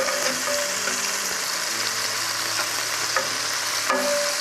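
Steak pieces sizzle and fry steadily in a hot pan for pepper steak, a continuous close crackle with faint stirring scrapes and no talking.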